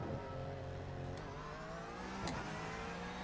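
A race car pulls away from the pit lane in iRacing at Imola, its mid-pitched engine revving steadily and continuously up close with a brief rise partway through, with no talking.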